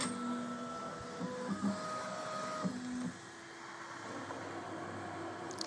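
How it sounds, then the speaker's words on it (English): Inside a Bambu Lab X1 3D printer, the stepper motors whine through a sequence of sustained tones that shift up and down in pitch over a low whirring fan, heard steadily and fairly quietly while the machine prepares a multi-color print. "I guess the printer is now preparing its print"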